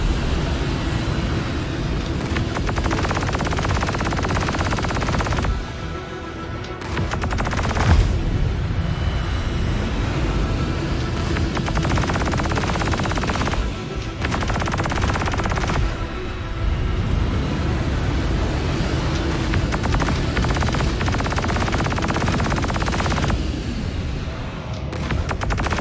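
Sustained machine gun fire in a shooting video game, dense and rumbling with brief pauses between long bursts, steady and loud throughout.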